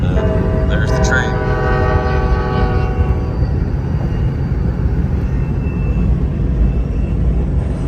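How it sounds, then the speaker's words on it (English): A train in Alaska sounds its horn in a long, loud blast at the start, then rumbles steadily past at close range for the rest of the stretch. "There's the train."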